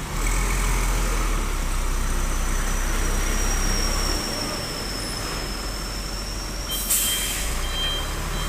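A trailer truck fully loaded with cement reverses into a tight parking spot, its big diesel engine rumbling loudly and close with a long high whine, a brief hiss and a burst of beeping near the end.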